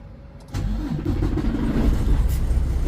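A truck engine catches after a brief click, then settles into a steady, close idle rumble with no talking.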